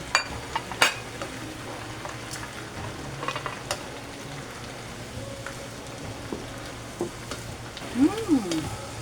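Bean sprouts for lumpia stir-fry in a pan along with cabbage, making a steady close sizzle and crackle with occasional sharp taps and scrapes of the utensil against the pan.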